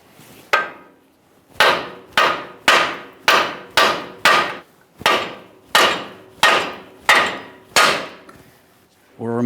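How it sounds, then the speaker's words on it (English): A hammer strikes a lower ball joint stud to drive it out of the steering knuckle on a 2015-2020 Ford F-150, about eleven sharp metallic blows, loud and close, with short ringing gaps between. "We'll have to lightly tap on this, driving it up and out of position away from our steering knuckle"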